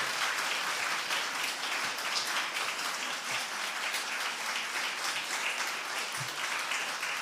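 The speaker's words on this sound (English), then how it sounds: "give them a big round of applause to show them just how grateful you are for their support" A crowd at a solicitors' admissions ceremony applauds its supporters, with steady, dense clapping sustained at even loudness throughout and no voices over it.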